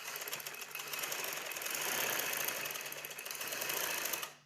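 A sewing machine stitches along folded shirt fabric in one continuous, even whirring run, close and alone, stopping abruptly at the end.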